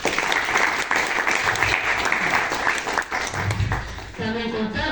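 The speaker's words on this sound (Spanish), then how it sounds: "Palmas, por favor." An audience at a book presentation breaks into sustained applause, a dense wash of clapping from many hands that fills the room and carries on steadily until it starts to fade.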